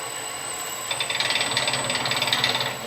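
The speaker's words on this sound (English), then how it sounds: "this is a heavy lathe, and this is probably around 400 RPM" Heavy lathe turning at around 400 RPM, a fast, regular mechanical clatter like a ratchet, loud and close, with the rhythmic knocking rising after the first second and fading slightly at the end.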